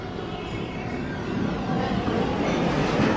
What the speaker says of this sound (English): This is a Lincoln Center bound shuttle train.